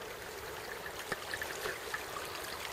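Steady broadband rush of a fast-flowing stream running under a branch through long grass, a continuous even wash with small gurgling splashes scattered through it, close and fairly faint.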